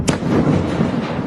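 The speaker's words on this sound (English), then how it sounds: "this was the one that had the sound of the explosion on it" A bomb strike on a Lebanese village: one sharp, loud blast at the start, followed by a dull rolling rumble that fades over about a second, no voices.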